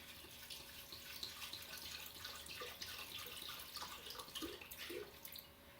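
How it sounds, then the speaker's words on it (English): Water poured into a Vitamix A2500 blender jar in a home kitchen, a continuous faint splashing and trickling with small gurgles and drips throughout. "per Vitamix, you're actually supposed to put the water in first."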